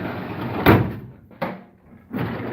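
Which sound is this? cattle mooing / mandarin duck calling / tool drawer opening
tool drawer opening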